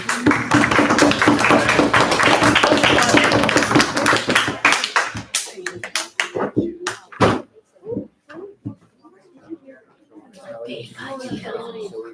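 An audience at a Maker Faire Q&A claps in dense applause for several seconds, then it thins into scattered individual claps and voices talking.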